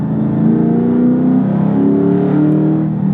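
A car engine fitted with longtube headers revs and holds a loud, steady, throaty drone with a slight rising pitch, close and continuous without any talking.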